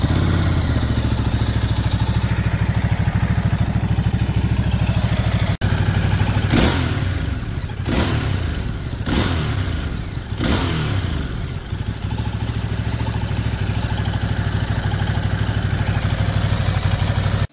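Ducati Monster 937 V-twin engine idling with a lumpy, loud throb, then revved in several sharp bursts around the middle before settling back to a steady idle, close to the bike with no talking.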